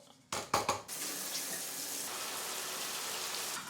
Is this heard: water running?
yes